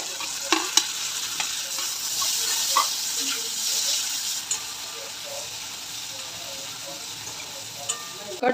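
Finely chopped tomato with chili, coriander and cumin powder is stirred and frying in a pan for capsicum sabji. It gives a close, steady sizzle with scattered scraping clicks from the stirring.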